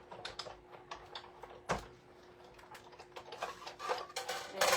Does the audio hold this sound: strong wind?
no